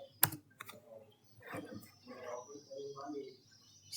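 Computer keyboard typing while entering router configuration commands, with a sharp key click followed by scattered light taps and keystrokes at close range, mixed with quiet speech in the background.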